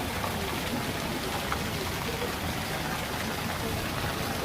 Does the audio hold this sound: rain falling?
yes